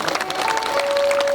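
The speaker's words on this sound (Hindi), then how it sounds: "आपके लिए जोरदार एक बार तालियों से सेवा दे दीजिए पहले तो" An audience at a Shrimad Bhagavat Mahapuran katha gathering in Rangaon, Shahpura claps, a dense, fairly loud patter of many hands with a faint steady tone running underneath.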